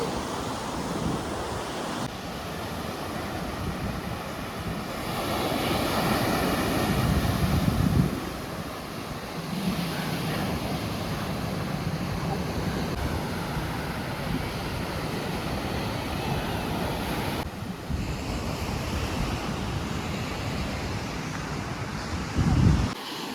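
Sea waves break and wash onto a beach at Yermal, a continuous surging roar that swells and recedes, mixed with gusty wind buffeting the microphone and no talking.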